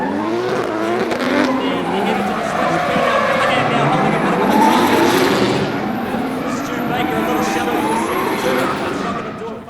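A Nissan S13 and a 2JZ-powered R32 Skyline drift in tandem at a D1NZ Pro-Am round in Tauranga, engines roaring and revving over steady tyre squeal, with a voice talking over the loud continuous noise.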